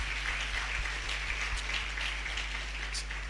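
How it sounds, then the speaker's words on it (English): Audience applause for the speakers at a Constitution Day public lecture, a steady wash of many hands clapping at moderate level with no talk over it. "I think our speakers tonight deserve a round of applause"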